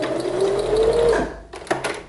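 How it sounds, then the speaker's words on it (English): A sewing machine runs steadily for about a second and a half while stitching a temporary line along a special-occasion garment hem, then gives a few short bursts and clicks as it slows. "you're gonna have to do at least 1 inch worth of stitching"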